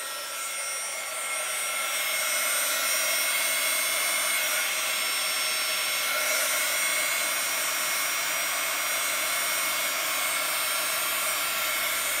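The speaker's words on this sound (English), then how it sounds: "I'm just going to put the heat gun on it again." A heat gun blows steadily over an acrylic paint pour with string-pull and swipe work, a loud, continuous airy whir that holds an even level from start to finish, with no talking.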